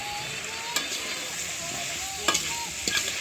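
A spatula stirs food in a frying pan, a steady sizzle broken by a few sharp scraping knocks of metal against the pan, close and without speech.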